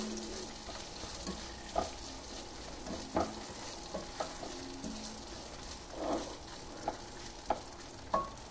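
Almonds and raisins sauté in a pan for carrot halwa, with a soft steady sizzle broken by spoon scrapes and taps at irregular intervals, fairly faint and with no voices.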